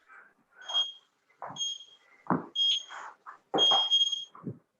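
Workout interval timer beeping in a set of close, loud double-tone beeps at a steady rhythm, with rustling movement and voices of people exercising woven between them.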